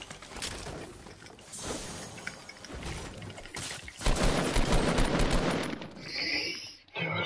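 Rapid rifle fire in a video game, loud bursts of automatic shots running through most of the clip with a denser barrage in the second half, ending with a brief electronic game tone.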